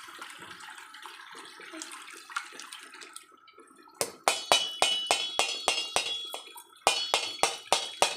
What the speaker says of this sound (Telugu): ఇప్పుడైతే మనం చింతపండు రసం అయితే జల్లితోటి ఇలా పోసుకుందాం.